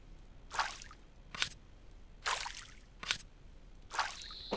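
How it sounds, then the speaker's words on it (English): Dirty water filling empty bottles in the survival game No One Survived, heard as five short splashy gurgling bursts spaced about a second apart, each rising and fading quickly against a quiet background. "Let's go ahead and fill them up really quick with our dirty water."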